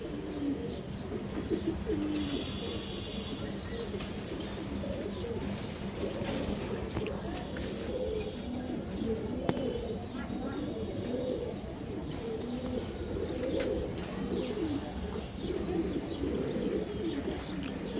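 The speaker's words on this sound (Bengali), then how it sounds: "এই এক পেয়ার কবুতর দেখেন" Pigeons at a farm keep up a dense, steady chorus of cooing close by, a few faint chirps mixed in and some quiet speech underneath.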